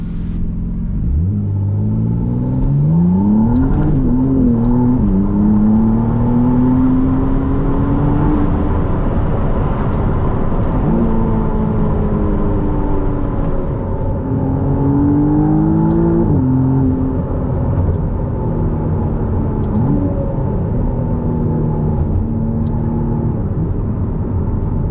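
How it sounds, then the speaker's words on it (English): McLaren Artura engine pulling hard on a wet road, heard from inside as loud rising revs climb through several gear changes, with repeated surges and a steady road rumble underneath. "I'll give you a couple of beans here so you can hear the car mainly."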